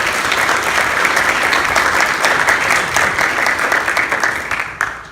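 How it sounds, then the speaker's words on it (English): An audience at a Meridian civil rights history event applauds educators, both retired and current, standing among them; steady, dense clapping from a large crowd fills the room and fades slightly at the end. "let's give them a round of applause"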